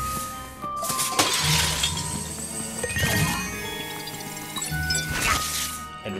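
Piggy banks shattering in the Luigi's Mansion 3 video game: a series of bright glass-like smashes with tinkling shards and clinks, three loud bursts spaced a couple of seconds apart over game music.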